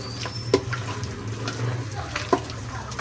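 Water runs steadily from a kitchen tap for hand washing, a close, continuous splashing hiss with a few brief clinks and knocks, no voices over it.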